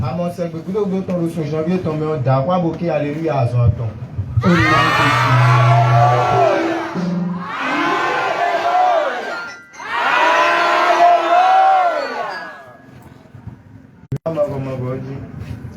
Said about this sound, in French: il faut crier 3 Alléluia.